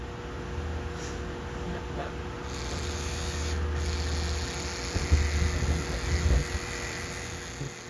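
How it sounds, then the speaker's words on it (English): An electric toothbrush held against the back of a flower to shake out pollen buzzes steadily, a low continuous vibrating hum with a faint high whine, close and without talk. "take your toothbrush, put it on the back of your flower"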